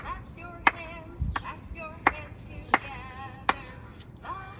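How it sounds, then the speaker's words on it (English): Hands clapping in a children's classroom sing-along, about five sharp claps in a steady rhythm roughly every 0.7 seconds, with a singing voice carrying between them. "Clap your hands together."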